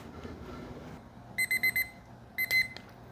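A kitchen timer alarm rings with two short bursts of rapid electronic beeps, the first of four quick pulses and the second briefer, over a quiet kitchen background during an oven-roasted watermelon chicken cook.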